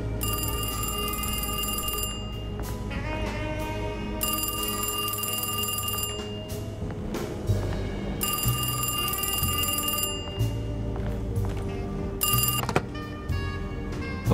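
A telephone rings repeatedly in the video game Alone In The Dark, with bright electronic bursts in a steady on-off pattern over low ambient game music.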